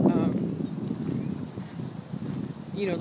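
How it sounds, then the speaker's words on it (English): Wind buffets an outdoor microphone on a breezy day, a steady low rumble with gusty swells that runs throughout, with a voice faintly audible at the start and end. "it's pretty breezy here today"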